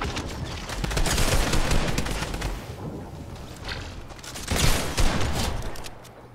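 Video game gunfight with several weapons fired in overlapping bursts, dense rapid rattling shots swelling and fading, then a second heavy burst, loud and close.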